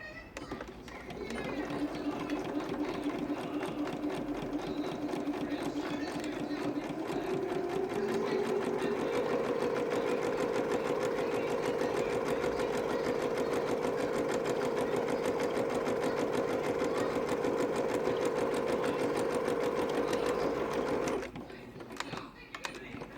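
A sewing machine stitches continuously for about twenty seconds, close and steady, with a slight change in pitch partway through as it speeds up, then stops near the end.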